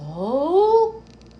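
A pet cat gives a single drawn-out meow that rises and then falls, close and loud, lasting about a second before quiet room noise.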